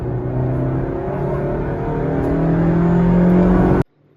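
A JDM Honda City's engine revs steadily upward toward 7,000 RPM, a loud, sustained rising whine with no talk that cuts off abruptly near the end.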